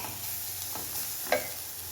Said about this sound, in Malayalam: സവോള ഏകദേശം വഴന്ന് വന്നിട്ടുണ്ട്